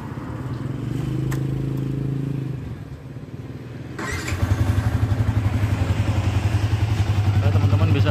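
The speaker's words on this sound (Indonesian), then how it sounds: "Kita coba seperti apa suara mesinnya." A 2012 Yamaha Vixion motorcycle engine runs close by, first at a smooth idle, then after a brief scrape or clatter it settles into a loud, steady, throbbing idle, alone without talk.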